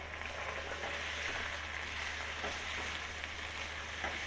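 Mutton frying with garlic and ginger in oil in a kadhai gives a steady, even sizzle with a soft crackle that holds at the same level throughout, with no voices.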